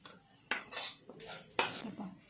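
Mango sheera, a sweet semolina dish, scraped from a pan onto a ghee-greased plate: several sharp metallic clinks and scrapes of utensil on cookware, close and distinct, with quiet gaps between strokes.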